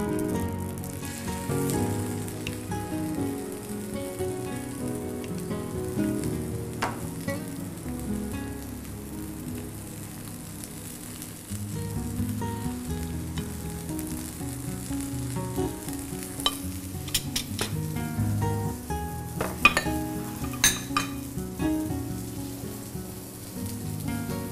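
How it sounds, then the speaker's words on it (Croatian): Turkey fillet pieces sizzle and crackle steadily in melted butter in a pan for a Christmas turkey dish, a dense continuous frying hiss with scattered sharp pops and spits throughout. "Stavimo našu puretinu"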